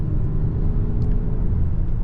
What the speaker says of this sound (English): It's a more deep, quiet tone rather than a winded out 4-cylinder